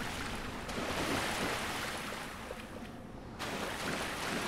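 Water waves washing in the Dark Souls video game, a steady broadband surf-like wash with wind that carries through the whole stretch, dipping briefly near the end before swelling again, with no voices.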